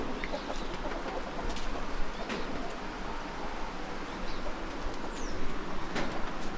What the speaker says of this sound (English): So this is the apartment for the chickens.